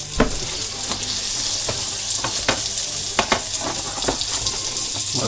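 Butter melting with a drizzle of olive oil in a hot pan, a dense steady sizzle with small crackling pops throughout, close and fairly loud.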